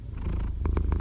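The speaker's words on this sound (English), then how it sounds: "if you hear purring, that's my cat Chewy, who is in my lap." A cat purrs steadily and close, a low rumbling hum with soft rhythmic pulses, no talking.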